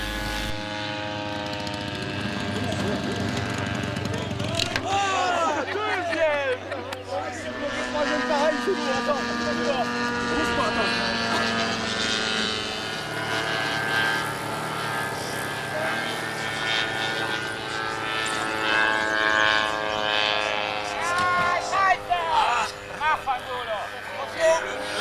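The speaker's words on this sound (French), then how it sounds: "équipé d'un moteur de rêve, le Seidel 125 cm3 en étoile" A model airplane powered by a Seidel 125 cc radial engine flies at an IMAA meeting at La Ferté-Alais, its steady droning engine note rising and falling as it passes, with someone talking over it throughout.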